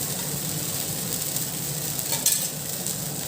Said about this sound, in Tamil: அப்புறம் சுற்றி நல்லா எண்ணெய் ஊற்றிட்டேன்